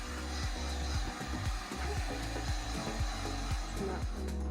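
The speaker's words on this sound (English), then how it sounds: "we had a hand dryer, and then it just basically blew all of the skins off of the seeds" Steady loud blowing hiss of a hair dryer running continuously to blow skins off coffee seeds, with faint rattling and tapping mixed in.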